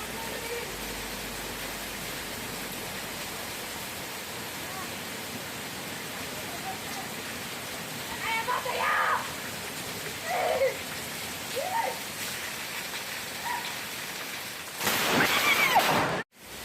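Steady rain falls outdoors on a person standing under an umbrella during a thunderstorm, a soft continuous hiss with a few brief voices in the middle and a sharp, louder burst just before it cuts off.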